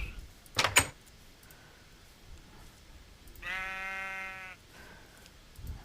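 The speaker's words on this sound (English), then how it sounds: "I'm watching you, sheep." A single sheep in the video game Minecraft gives one clear, drawn-out bleat lasting about a second over a quiet background, after a brief clatter earlier on.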